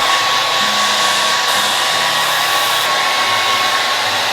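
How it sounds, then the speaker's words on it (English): A hair dryer blows steadily and loudly at close range, drying hair roots with the head upside down, a continuous even whoosh with a faint motor whine and no talking. "I'm going to blow dry my roots a little bit just because that gives you some more volume"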